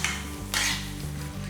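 Prawns being sautéed in a pan for a spicy prawn and brinjal gravy, village style: a utensil scrapes and stirs with clattering against the pan over a low, steady sizzle.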